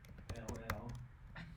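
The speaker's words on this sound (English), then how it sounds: "I'm just typing stuff here." Fingers type on a computer keyboard, a run of soft, uneven keystrokes with a few sharper taps, heard close with faint speech underneath.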